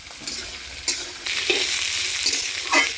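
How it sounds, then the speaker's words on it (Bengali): Capsicum, peas and mixed vegetables frying in a pan, a steady bright sizzle with a few scraping stirs of a spatula, close and fairly loud. "সব সবজি দিয়ে আমি একবারে ভালোভাবে ভাজা ভাজা করে নিচ্ছি"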